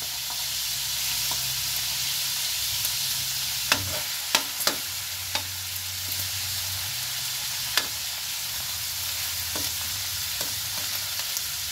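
Pork and garlic fry in a pan, giving a steady broad sizzle throughout with a low hum and scattered sharp clicks and ticks from stirring, close and continuous with no talk.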